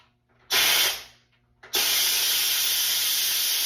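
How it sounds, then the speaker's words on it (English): A pressure cooker's release valve lets out steam in two loud, close hissing bursts: a short blast that fades, a pause, then a sustained forceful hiss. "You hold it down and you can see all the steam releasing"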